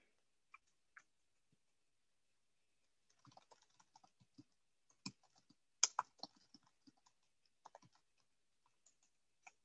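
Faint, scattered keystrokes on a computer keyboard tap irregularly in a quiet room, with sparse single clicks at first and then a busier cluster of typing.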